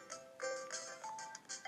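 Phone ringtone in a Pokémon Volt White 2 game, a short, faint electronic melody of repeating tonal beeps with no one talking.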